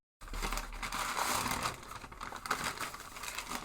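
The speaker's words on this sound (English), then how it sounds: "Gotta unwrap all of this cardboard and everything, paper from" Paper and cardboard packaging of a mail-order parcel being unwrapped: steady close crinkling and crumpling with occasional tearing rustles throughout, fairly quiet, with no talk.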